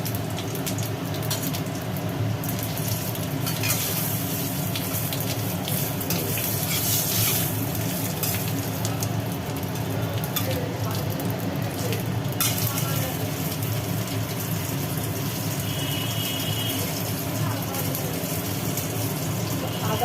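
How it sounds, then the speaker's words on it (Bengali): Dry red chilies, bay leaf and cumin crackling in hot oil in a kadai for a vegetarian Bengali meal, a steady moderate sizzle with stirring sounds that runs throughout. "এবার এর মধ্যে ফোড়ন দেওয়া হবে তেলটা গরম হওয়ার পর শুকনো লঙ্কা তেজপাতা আর জিরে"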